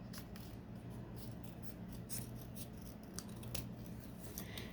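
Scissors cutting paper for a junk journal tag, a close run of quick crisp snips and soft rasping slices repeating steadily over a quiet low hum, with no talking.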